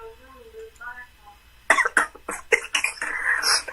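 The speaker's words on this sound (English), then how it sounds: "My grandma hear me coughing." A person coughs hard several times in quick succession, close and loud, right after a brief stretch of speech.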